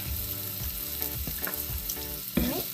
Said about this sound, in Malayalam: പെട്ടെന്നൊന്ന് വഴന്ന് കിട്ടാൻ വേണ്ടി നമുക്കൊരു നുള്ളി ഉപ്പിട്ട് കൊടുക്കാം